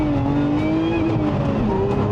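Lotus Emira pulling hard under acceleration, a steady loud engine drone rising slowly in pitch, heard from close by without any talk.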